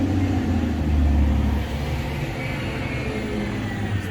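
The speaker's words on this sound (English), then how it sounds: "Wait for the garbage truck to go by." A garbage truck rumbles steadily past outside, a loud, continuous low engine drone that swells slightly midway and then holds, with no voices.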